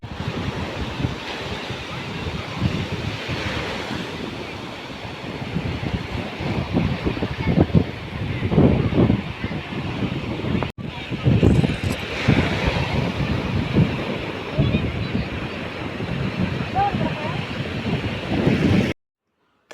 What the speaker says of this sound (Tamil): தண்ணி அலை வந்து அடிக்குது பாருங்க